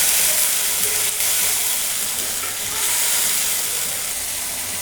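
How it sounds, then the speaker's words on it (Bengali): Spices fry for a beef curry with garlic, giving off a continuous bright hissing sizzle that stays close and fairly loud, with no speech over it. "এখন মশলা সবগুলো একসাথে ভালোভাবে কষিয়ে নেব।"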